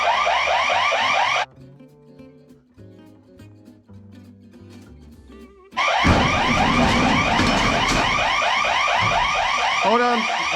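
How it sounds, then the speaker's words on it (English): A loud warbling electronic alarm wails close by, breaks off for a few seconds into a quieter stretch of low tonal sounds, then returns at full strength with its repeating rising-and-falling sweeps. "there's an alarm going off."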